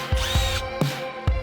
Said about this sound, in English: Drill 4 holes with a 1/4 drill bit.